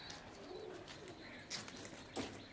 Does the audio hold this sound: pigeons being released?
yes